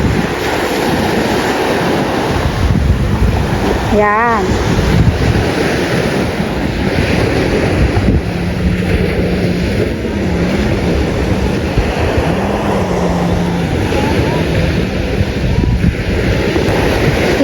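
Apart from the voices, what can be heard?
sea waves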